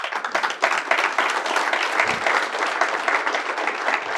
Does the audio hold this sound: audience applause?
yes